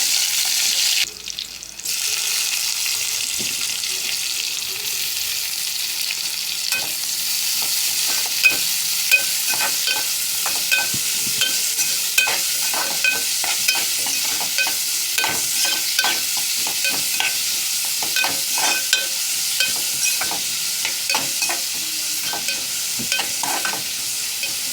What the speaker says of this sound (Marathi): छानसे हलवून घेऊ.